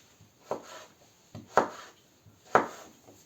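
Potatoes being cut with a sharp knife give three or four soft, close slicing strokes, each ending in a light knock on the board, quiet and unhurried, with no talk.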